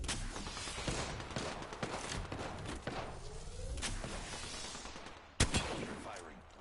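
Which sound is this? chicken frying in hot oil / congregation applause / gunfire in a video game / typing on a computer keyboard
gunfire in a video game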